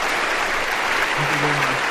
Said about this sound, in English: Let us clap once again.